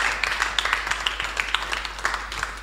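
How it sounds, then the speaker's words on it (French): Light applause in a radio studio, a handful of sharp, uneven claps close to the microphone over a couple of seconds. "On applaudit très très fort."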